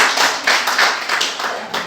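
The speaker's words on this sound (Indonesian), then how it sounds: "Tepuk tangan dulu buat Anda." Classroom applause from students in an Indonesian school lesson, a short burst of close, brisk hand clapping with distinct overlapping claps lasting about two seconds.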